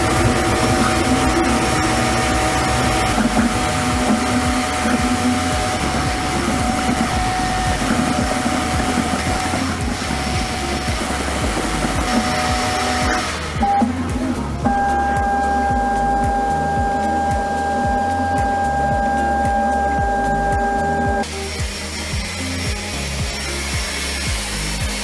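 Creality K1 Max 3D printer running at high speed, a steady loud mechanical whir with rapid motor tones and rattling that shift pitch partway through, continuous without talk.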